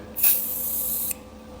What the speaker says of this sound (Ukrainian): на одну шинку ось з дюрочкою я наношу спрей Авікор Вінзель